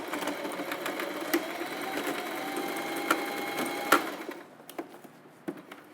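A home sewing machine stitching the seam of a child's dress made from a dress shirt, running at a steady whirring pace for about four seconds, then stopping into quiet clicks and handling noises.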